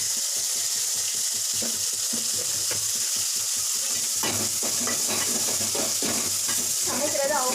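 Onion and tomato fry with a steady sizzle in a pan while a spoon stirs and scrapes in quick repeated strokes, loud and close throughout, with a voice speaking over part of it.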